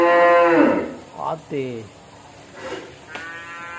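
Cows on a farm moo in a few drawn-out calls, one long low moo at the start and a shorter one after, fairly close, with someone speaking briefly between them.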